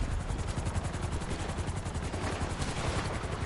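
A helicopter in GTA 5 Online gives off a dense, steady rotor roar with rapid rhythmic chopping, loud and close, with gunfire mixed into the din.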